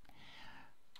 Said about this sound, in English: I'm going to type in 100 Bay Street,